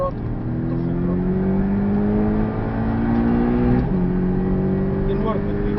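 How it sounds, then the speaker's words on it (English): A Porsche 718 goes to full throttle on the Portimão circuit, its engine note rising steadily through the gears from inside the car while an instructor talks. "back on the throttle, to full throttle"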